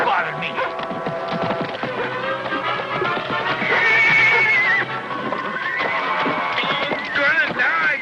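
A horse whinnies loudly in an old Western TV episode, with hoofbeats clip-clopping beneath a busy, dense soundtrack.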